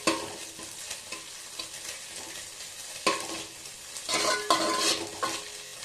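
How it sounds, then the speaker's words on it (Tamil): Scrambled egg for chicken fried rice gets stirred in a hot pan, a close scraping and sizzling with repeated spatula strokes and louder bursts near the end, no talking. "இந்த அளவுக்கு முட்டை ரெடி ஆகிடுச்சு இதெல்லாம் மிக்ஸ் பண்ணிக்கிறேன்"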